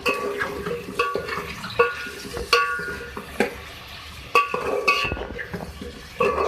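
Potatoes are stirred into frying vegetables for an aloo cabbage capsicum sabzi, with a low sizzle under repeated sharp clinks and scrapes of a spoon against the pan, close by and without speech.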